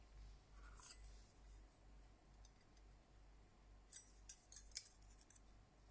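Soft snips and clicks of scissors or a trimmer cutting paper for a Stampin' Up craft, quiet and close, with a few sharper cuts near the end and no talking.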